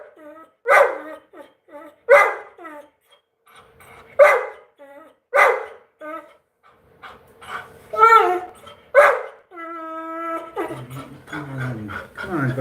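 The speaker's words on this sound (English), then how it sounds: "my dog's being a little" A dog barks loudly in repeated sharp bursts about every one to two seconds, close by, with some whimpering yips and a person talking toward the end.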